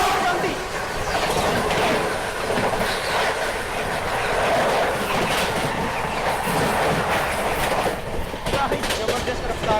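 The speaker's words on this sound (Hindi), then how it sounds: "सामने से आ रही है उड़ीसा संपर्क क्रांति एक्सप्रेस। शानदार स्किप प्लस क्रॉसिंग" The Odisha Sampark Kranti Express thunders past at a crossing, steady loud clickety-clack of wheels over rail joints filling the whole stretch close by, with someone talking over the noise.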